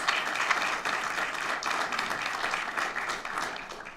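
School board meeting audience gives a short round of applause, a moderately loud, even wash of clapping that swells and ebbs over a few seconds.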